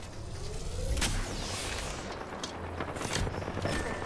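Video game gunfire, a close, loud rattle of rapid shots with sharp cracks and booms over a busy battle background.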